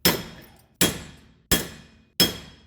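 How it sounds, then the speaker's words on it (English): A hammer strikes the rear wheel hub bearing of a 2012 Subaru Impreza four times at an even pace, each a sharp, loud metallic bang that rings briefly and fades. "we're going to continue smashing on this side here"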